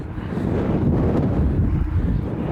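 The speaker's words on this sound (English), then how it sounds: "That's a big wind gust." A big wind gust on an open disc golf course roars loudly into the microphone as a steady, heavy rumble that fills the whole stretch, with no voices.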